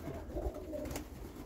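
Pigeons coo softly on a rooftop, a few low murmuring calls close by but faint against quiet background noise, with no one speaking.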